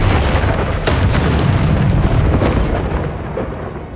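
A Bombarda spell blast in the Hogwarts Legacy video game: a loud, booming explosion with a rumbling low-end roar that stays dense and sustained for several seconds before easing slightly.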